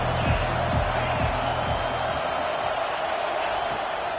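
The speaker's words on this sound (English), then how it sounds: "This crowd trying to make life miserable for this offense." A football stadium crowd roars in a dense, sustained wash of noise through the whole stretch, loud and continuous, with rhythmic thumping or chanting in the lower range early on.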